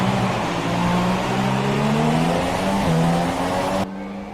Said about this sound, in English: We've got the engine turned up to its maximum.